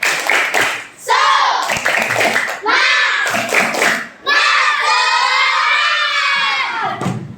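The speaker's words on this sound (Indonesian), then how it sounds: "Tepuk semangat." Schoolchildren in a classroom clap and shout together in a lively rhythmic spirit chant, a loud group burst that swells and pauses several times.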